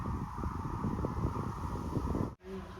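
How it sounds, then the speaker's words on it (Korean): Birds call from distant rice paddies at Suncheon Bay, harsh crow-like caws that are faint against a low, steady outdoor rumble, heard through an open window. "새 소리가 더욱 크게 들립니다."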